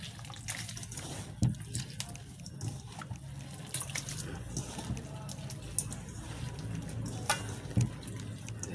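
Tap water running over a banana heart being washed in a sink, a continuous soft splashing stream with occasional louder splashes and knocks, fairly quiet and close.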